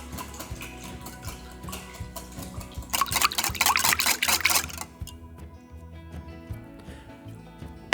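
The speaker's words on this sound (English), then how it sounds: "Whisk the mixture until smooth." Eggs being whisked with chicken broth in a bowl, a quick run of wet, liquid clicks and sloshes lasting about two seconds, close and fairly quiet, with softer handling noises before and after.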